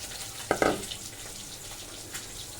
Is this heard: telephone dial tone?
no